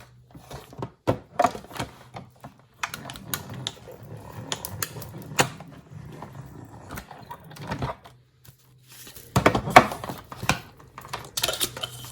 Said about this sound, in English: we're going to cut this piece out first